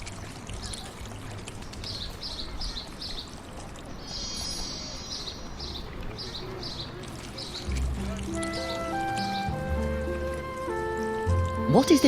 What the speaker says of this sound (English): Now we need to water the flowers.